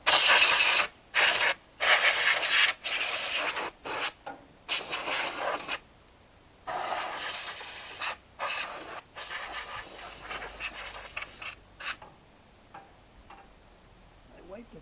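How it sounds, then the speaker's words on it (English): Carburetor cleaner sprays in repeated short aerosol bursts over a tractor engine, loud close hisses separated by brief pauses, the bursts getting shorter and sparser toward the end. "Now I'm going to take some, if I got any carburetor cleaner, I'm going to spray all through here."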